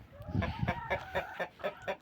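Hens cluck in a steady, rhythmic series of short calls, close by, with soft barnyard background.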